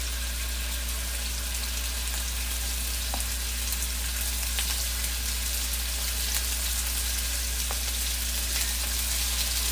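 Pieces of beef getting a light sear in a pan for beef bourguignon, a constant broadband sizzle over a low steady hum, with a few faint ticks and pops, close and even throughout.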